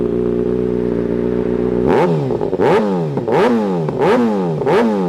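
A 2020 Kawasaki ZX6R with an aftermarket AR-style exhaust idles steadily, then gets about five sharp throttle blips, each a loud rising snarl that falls back quickly, heard close up with no talk.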